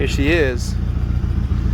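A Nissan S13 240SX fitted with a DNA Motoring exhaust idles with a low, steady, pulsing rumble, not very loud, following a brief spoken phrase at the start.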